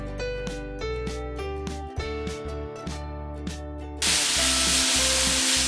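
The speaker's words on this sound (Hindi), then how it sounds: "अब हम इसमें बादाम डालेंगे, काजू और इलायची पाउडर, और इसे एक बार मिक्स कर लेंगे।" Modak filling with almonds, cashews and cardamom powder is mixed in a hot pan, with a steady hiss and sizzle rising near the end under loud background music.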